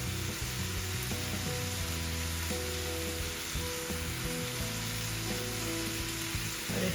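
Curry with tomato and curry powder frying in a pan while being stirred, a close, steady hiss of sizzling oil that holds level the whole time with faint scraping underneath.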